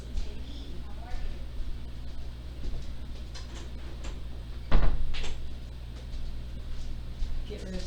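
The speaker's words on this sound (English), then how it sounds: "I'm going to go ahead and close the door so you don't hear the outside noise." A room door is closed at home, a single solid thud landing midway through, heard over a constant low hum of background noise from outside.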